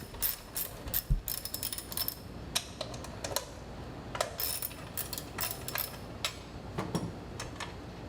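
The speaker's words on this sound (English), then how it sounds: "using a 10mm and a ratchet, remove the two 10mm nuts on the bracket" A 10mm ratchet removes nuts from the PCM bracket on a Dodge Charger or Chrysler 300, with bursts of fast, close clicking pawl ratcheting broken by short pauses and light tool handling.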